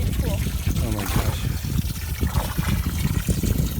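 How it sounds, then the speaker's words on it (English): Water pours and trickles steadily into a makeshift pool lined with a tarp and held together by a ratchet strap on a hot day, a continuous close splashing gurgle under nearby talk. "now it's filling with water"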